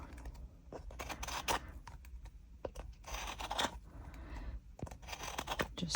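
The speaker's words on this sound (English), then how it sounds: "Let me just going to use the deburring tool, and I'm just going to go around this edge" A deburring tool scraping around the edge of a cured resin trinket tray, a series of quiet close scratchy strokes in irregular bursts, with no talking.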